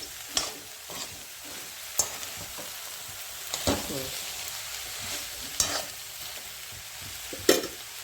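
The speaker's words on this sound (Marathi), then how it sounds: "की मग हे दोडकं घालणार दोडकी सगळी घातली जाणार" Ridge gourd goes into a hot frying pan and is stirred, giving a steady sizzle broken by repeated scraping strokes of a spoon against the pan.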